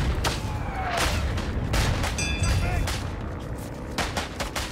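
Frag grenade blasts and rapid gunfire in a World War One shooter pile into a loud, continuous din of cracks and booms. Sharp reports stand out near the start and again toward the end.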